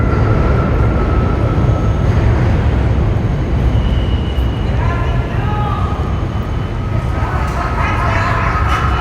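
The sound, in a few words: New York City Q subway train at Coney Island terminus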